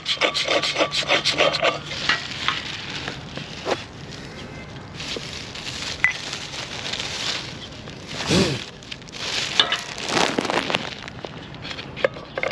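A light bulb is jiggled, tightened and loosened in its socket, giving faint, intermittent gritty scraping and rubbing with a few sharper clicks over a quiet background.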